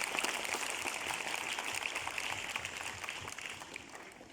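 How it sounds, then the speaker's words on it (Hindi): Audience applause at a school event at a Kendriya Vidyalaya, a steady dense clapping that holds at an even level throughout and thins slightly toward the end, with no voices over it. "कार्यक्रम का उत्कृष्ट संचालन करने वाले मीणा जी के लिए जोरदार तालियां दूंगा"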